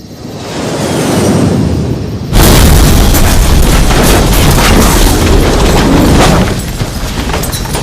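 A loud explosion erupts abruptly after a rising rumble, followed by a sustained roaring blast of debris and noise that slowly eases off.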